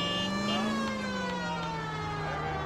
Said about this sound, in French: Toujours la sirène.